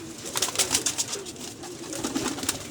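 Highflyer pigeons at a pigeon club loft coo in soft, repeated bursts, fairly close, with no talking over them.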